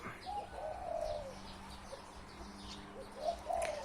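Soft, low cooing calls from a spotted dove repeat a few times at a distance, faint against quiet background ambience.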